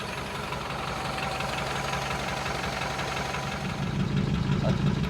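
A 1947 Ford engine idles steadily after more than a year in storage, a close, continuous low rumble with an even pulse that swells slightly louder toward the end.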